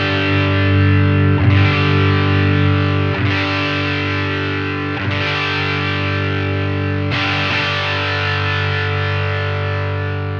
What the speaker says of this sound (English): we can enjoy the sound of the DELUXE55 and our amp's clean tone without compromise